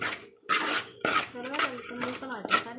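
Mango pickle is stirred in a pan over low heat with a spoon, giving repeated clinks and scrapes against the metal at an uneven pace, with someone talking over them.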